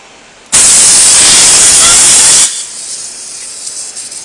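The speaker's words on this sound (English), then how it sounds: "I'm going to pump it up 25 pounds" Compressed air hisses loudly and steadily into a tire from an air inflator for about two seconds, then cuts off abruptly, leaving a faint residual hiss.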